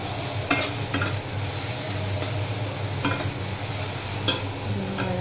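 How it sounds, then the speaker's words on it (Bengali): Food fries steadily in a pan with a dense, even sizzle, punctuated by a few sharp scraping strokes of a spatula stirring at close range. "ভাজা হতে থাকুক।"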